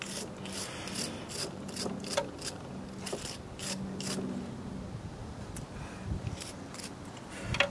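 A corroded part from a Mosquito Magnet Patriot Plus mosquito trap is scrubbed by hand, making repeated rasping strokes in an uneven rhythm, close and moderately loud, with no talking over it.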